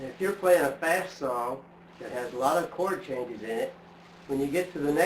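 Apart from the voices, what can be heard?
None of the usual background noises is heard.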